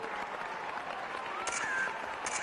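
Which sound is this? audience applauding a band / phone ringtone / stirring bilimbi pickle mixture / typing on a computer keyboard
audience applauding a band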